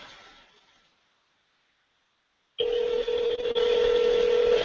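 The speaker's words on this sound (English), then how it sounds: "It's ringing." A telephone ringtone plays over a speakerphone, a steady electronic tone sounding loud and continuous after a few seconds of near silence.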